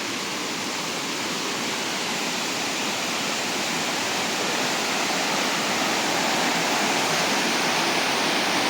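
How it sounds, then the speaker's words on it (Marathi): A spring-fed stream comes down from the hills beside a temple in the Konkan, a continuous loud rushing of water heard close by, steady and unbroken throughout. "अतिशय सुंदर आणि डोंगरातून आलेला हा झरा आहे"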